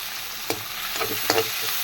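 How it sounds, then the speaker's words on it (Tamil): Tomatoes and onions sautéing with salt in a pan, a soft frying hiss broken by a few brief scraping stirs, close by and without talk. "இப்போ தக்காளி போட்டுக்கணும் இது வதங்குறதுக்கு உப்பு போட்டுக்கணும்"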